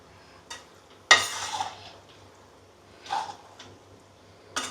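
Pasta with pepper being stirred in a pan at home, a few short scraping strokes and a brief light sizzle spaced across a quiet kitchen background, moderately close.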